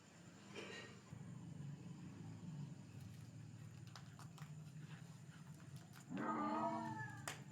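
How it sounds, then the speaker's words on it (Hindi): Black cat in an old haveli lets out a loud, drawn-out yowl toward the end, preceded by a fainter cry, over constant low droning background noise. "वो तो काली बिल्ली की आवाज।"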